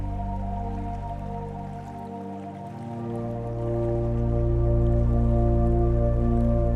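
Water runs under the ice of a frozen stream in Kyrgyzstan with a continuous low gurgling rush that swells slightly louder toward the end, steady and close.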